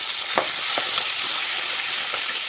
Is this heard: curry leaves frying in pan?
yes